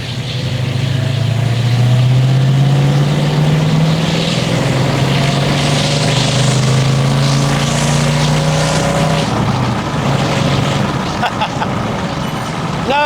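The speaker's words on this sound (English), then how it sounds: "Third gear, 1000 RPM, it's 20 something miles an hour, flat down on the throttle." A 1967 Dodge Charger accelerates flat out in third gear from about 1000 RPM, its loud, deep engine note rising steadily in pitch as it pulls, with faint talk in the background.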